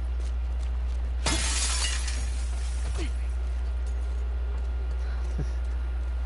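A glass case shatters in The Last of Us Part 2, a sudden loud crash and spray of breaking glass that rings out for about half a second, followed by a few small clinks of falling shards over steady game background noise.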